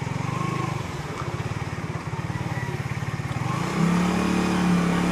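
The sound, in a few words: motorcycle accelerating, front lifting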